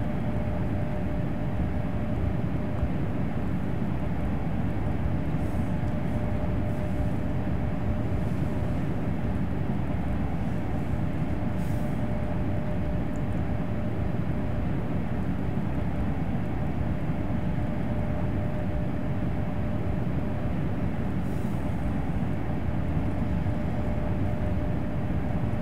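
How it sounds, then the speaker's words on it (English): Train Sim World 3 simulation of a DB BR 401 high-speed train on the Köln-Aachen line, a steady low rumble of the train running with faint rattling as it crosses points, continuous with no talk. "I love that rattling you get when you go for the points."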